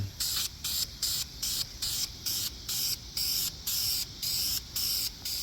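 Rhythmic bursts of spray paint hiss onto a 1969 Lincoln Continental engine block, about a dozen even, close passes separated by short pauses.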